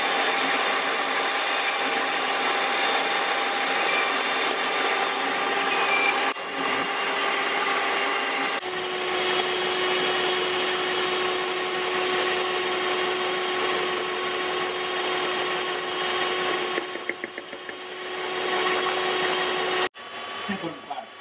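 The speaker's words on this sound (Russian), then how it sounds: "Пока взбивается крем" An electric mixer whipping cream with powdered sugar for a no-bake caramel cookie cake, a steady whirring motor drone that runs on and on with a brief dip partway through.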